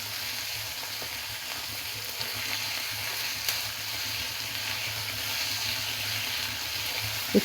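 Chopped ginger and garlic frying in hot oil give a steady, close, dense sizzle that holds evenly throughout, with a faint clink near the end.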